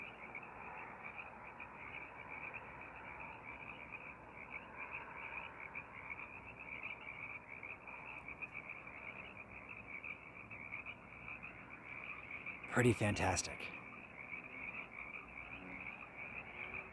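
A chorus of Sierran tree frogs in a marsh croaks steadily and loudly throughout, with a brief louder burst near the end and a few words spoken faintly.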